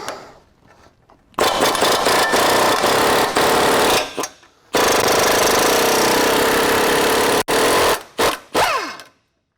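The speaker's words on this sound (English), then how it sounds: "take a 22mm socket and remove these 2 bolts" Two bolts are removed with a 22mm socket on an impact tool during a Toyota Tundra lift kit install, giving loud sustained rattling bursts with short pauses between them.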